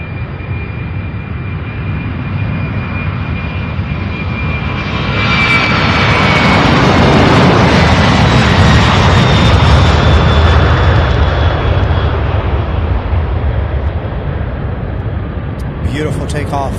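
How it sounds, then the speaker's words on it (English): A plane takes off at Louisville International Airport. A loud, broad jet roar swells to a peak and then slowly fades, heard from nearby with a steady high engine whine. "Beautiful takeoff."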